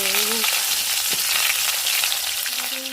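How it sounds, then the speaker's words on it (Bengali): A fish head fries in hot oil, giving a loud, close, continuous sizzling crackle for the whole stretch. "তেলটাও গরম হয়ে গেছে। আগে মাথাটাই ভেজে নিই।"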